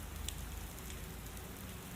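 Rain falling on a rainy afternoon, a soft, even patter on surfaces, faint and steady throughout with no voices.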